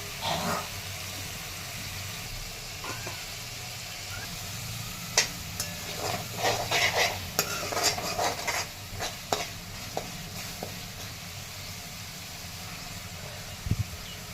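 A steady low frying hiss runs throughout as ground tomato and cooked chickpeas are sautéed in a pan with onion, ginger and garlic for chole masala, broken by scattered spatula scrapes and knocks.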